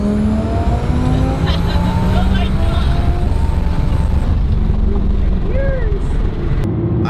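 A 1000 HP twin-turbo Audi R8 accelerating hard on its first drive, a loud continuous engine roar with rising pitch sweeps, heard from close by with voices talking over it.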